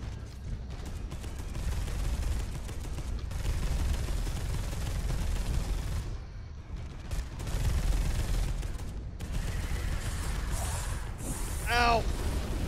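Gunfire in the video game Space Hulk: Deathwing, a rolling, rumbling barrage with heavy low-end bursts that continues throughout. It pauses briefly midway and ends with a warbling electronic tone.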